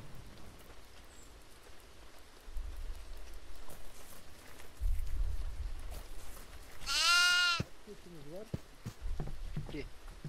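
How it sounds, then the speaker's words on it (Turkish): In the horror game Devour, a goat gives a short, wavering bleat up close over a patter of rain-like ambience, with a couple of quieter bleats following and low thuds around it. "Aa keçi buldum."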